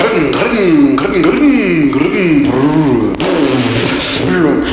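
A voice mimics an engine idling and revving, with wavering, rising and falling pitch, loud and close throughout with no pauses.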